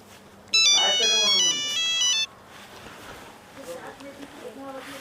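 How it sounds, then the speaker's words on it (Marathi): A mobile phone ringtone plays a loud, bright electronic melody for under two seconds and then cuts off, followed by quiet room sound and a voice talking in a Marathi comedy sketch. "मयुरीच फोन आला काय?"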